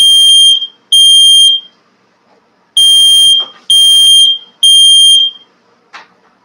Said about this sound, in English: I can't even make toast in here without setting off my alarm.